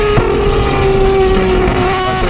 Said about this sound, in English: Duffin's three-rotor racing FD RX7 has proven to be exceptionally reliable.